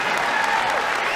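Crowd at a college wrestling match between Iowa and Ohio State in the Covelli Center applauding, a dense, steady wash of clapping heard close and full.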